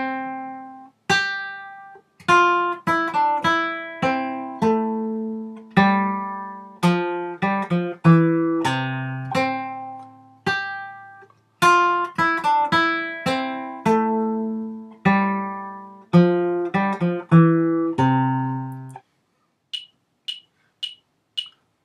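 A beginner guitar melody, the round "Winthrop Round", is played note by note as plucked single notes in an even rhythm, clear and close, then a few short high clicks follow after the melody ends.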